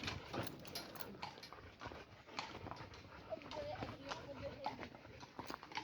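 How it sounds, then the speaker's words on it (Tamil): A horse's hooves clip-clop in a quick, uneven patter as it goes past at a spot offering horse rides, under steady talking voices, with a dog whimpering faintly in the mix. "மறுபடியும் குதிரை போகுது"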